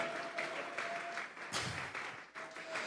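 Hands clap together among a church congregation, a fairly faint, uneven burst of applause that swells and dips over a few seconds.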